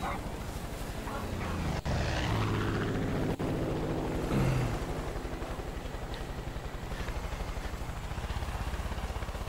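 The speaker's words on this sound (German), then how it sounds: "Oh scheiße, da kommt ein Flugzeug." A plane approaches in the video game Far Cry 5, a steady droning engine roar that holds throughout and swells slightly midway, with a couple of brief sharp knocks over it.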